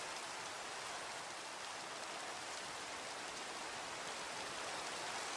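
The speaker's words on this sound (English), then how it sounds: "I know it's raining." Steady rain falling in a Minecraft-style game world from the Galactic Chickens modpack, a continuous even hiss with no breaks, moderately quiet and heard alone without any talking.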